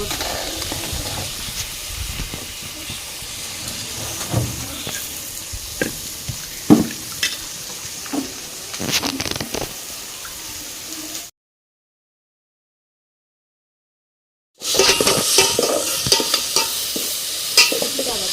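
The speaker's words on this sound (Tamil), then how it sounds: "அதுக்கப்புறம் இஞ்சி பூண்டு பேஸ்ட்டு எல்லாத்தையும் சேர்த்து நல்லா வதக்கிக்கலாம்" Onions, tomato and ginger garlic paste sauté in a pan for village-style country chicken curry, with a steady close sizzle and repeated scraping stirs, broken by a few seconds of silence before the frying resumes.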